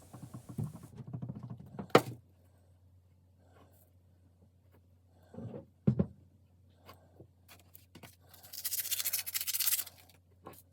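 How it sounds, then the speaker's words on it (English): Coarse 60 grit sandpaper is rubbed over glued cherry wood pieces in a few short, scratchy bursts separated by quiet pauses, with a longer hissing scrub near the end. "you're going to see with the sandpaper, that's roughly 60 grit, kind of rub it over it"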